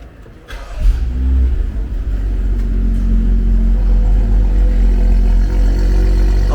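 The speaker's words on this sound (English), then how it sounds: "This is the first startup, and I'm gonna see if the exhaust sounds any different." A BMW car engine cranks and fires up on its first startup, settling into a deep, steady exhaust rumble that holds loud and close with no talking.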